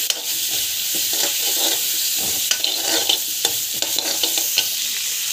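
Coriander and spices fry and get stirred in a hot pan for a potato and pea masala gravy, a steady close sizzle with scraping spoon strokes recurring throughout.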